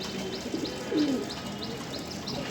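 A racing pigeon newly returned home after twelve days missing coos softly and close by, a short low warble with faint rustling around it.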